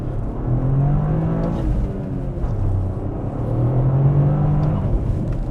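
A Toyota GR Corolla accelerates hard, its engine note rising and falling in a steady, loud, close drone with gear changes and no talk over it.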